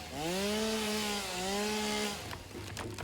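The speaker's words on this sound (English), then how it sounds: "I hope you're ready to listen to a chainsaw for, like, an hour." A chainsaw whines in a video game, its tone rising and dipping over two long steady pulls, then cutting off into scattered clatter and brief knocks.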